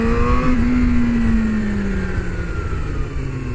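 A motorbike cruising on countryside roads near Kyoto on new tyres over gravel: a steady engine drone with a slowly falling pitch and constant rushing wind, loud and close throughout.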